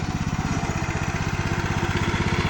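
A walk-behind tractor engine ploughs a potato plot, chugging loudly and steadily nearby with a fast, even pulsing rhythm and no talk.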